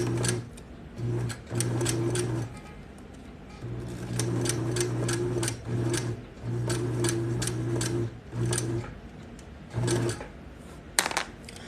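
Sewing machine running long straight seams on garments with a long basting-length stitch, close and steady, in bursts of two to three seconds broken by short pauses, with a whirring buzz and fast rhythmic needle clatter.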